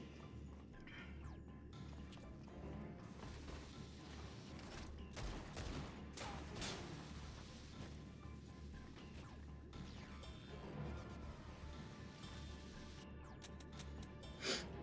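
Gunfire in Final Fantasy XIV (Dawntrail, patch 7.3), a steady stream of loud, crackling shots and crashing impacts that continues throughout with no speech.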